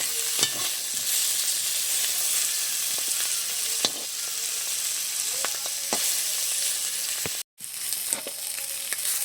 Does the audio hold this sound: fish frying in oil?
yes